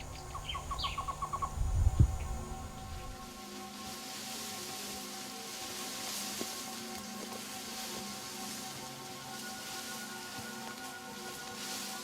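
Birds call in a shady Cuban forest near a cave entrance, where species such as the Cuban tody and the Cuban trogon live, with a brief burst of chirps near the start before a quieter, steady wash of ambient sound.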